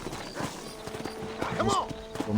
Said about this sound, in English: Vou com nosso cavalo aqui